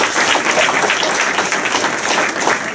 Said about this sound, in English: a few more big round of applause